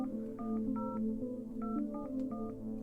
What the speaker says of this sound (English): Beth frantically grabbed her phone, dialing Eli's number